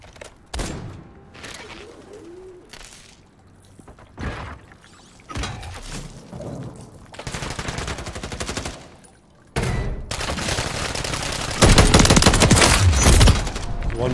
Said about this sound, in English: I don't think I've ever seen anybody use that little burst gun.